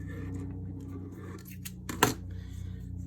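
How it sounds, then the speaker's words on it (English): A sharp blade cuts through a clear RC car body shell for a Yokomo SD9 Sport, giving a quiet scraping cut and then one brief, sharp snap as it finishes at the line, with no talking. "Perfect cut right at the line."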